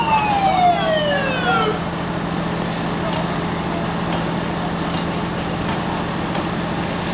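A fire engine siren winds down in a falling wail as the truck pulls up at a fire training scene, then gives way to a steady idling engine rumble with faint voices in the background.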